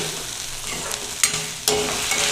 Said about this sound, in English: Saute this for about 5 minutes.